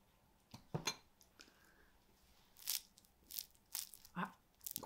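Several crisp, crackly crunches sound in short bursts as a croissant is bitten into, close and fairly quiet against a still background.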